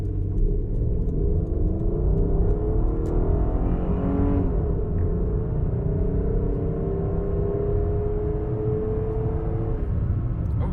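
A 2003 Mitsubishi Magna TL with 167,599 km accelerates uphill, heard as a steady, fairly loud engine drone whose tone climbs gradually as the revs rise, with no talk.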